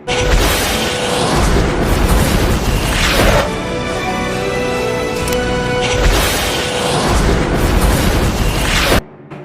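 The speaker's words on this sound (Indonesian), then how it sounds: "Dua jet tempur Hornet tersebut langsung memberikan hujan bom ke posisi pasukan pemberontak berada" Bombs from two Hornet fighter jets rain down on rebel positions in the war film Tears of the Sun, loud booming blasts in two heavy bursts with a rolling rumble between them, cutting off abruptly.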